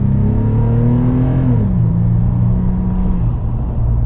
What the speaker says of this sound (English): Now we're gonna get our little acceleration here on the FJ.